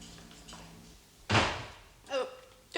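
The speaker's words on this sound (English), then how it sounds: "do something about that door, Ellie" An interior door bangs once with a loud, sharp thud, followed by quieter knocks, while people talk before and after.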